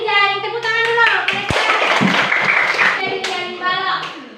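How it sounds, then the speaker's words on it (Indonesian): Children clap their hands together in a classroom, a dense burst of claps at close range over a teacher's voice, with talk and children's voices before and after. "tepuk tangan dulu"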